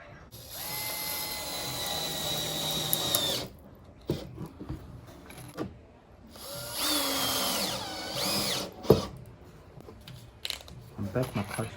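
A power drill driving screws into plywood, with the clutch backed down, makes two long whirring bursts that end in ratcheting clicks. Clattering handling noises fall between them, and a voice speaks briefly.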